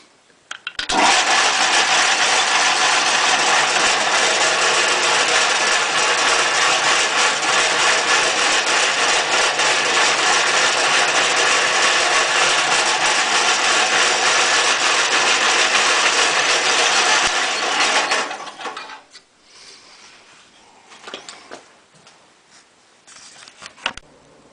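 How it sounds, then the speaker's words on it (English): A mortiser cuts 3/8 inch mortises into wooden stock, giving a loud, steady motor roar that runs for about eighteen seconds before stopping, followed by faint handling noises. "And now you can see that I've cut both mortises,"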